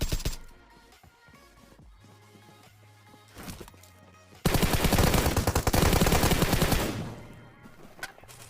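Automatic gunfire in the video game PUBG Mobile: sparse shots and clicks, then a loud dense burst of rapid fire in the middle that trails off into scattered shots.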